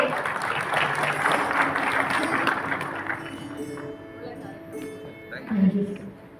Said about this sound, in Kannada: ದೊಡ್ಡದಾದಂತಹ ಚಪ್ಪಾಳೆ